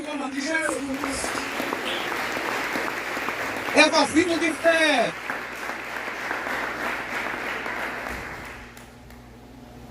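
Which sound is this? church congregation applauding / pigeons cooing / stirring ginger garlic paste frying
church congregation applauding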